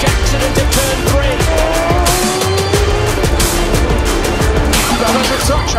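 Race cars at the Red Bull Ring during a multi-car crash at turn three, engines roaring loudly throughout with tires squealing and skidding as cars spin, a dense continuous racing din with no talk.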